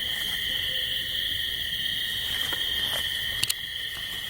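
An owl hoots at night amid a steady drone of crickets and insects, with a couple of sharp clicks near the end; the calls are moderately distant and no one speaks.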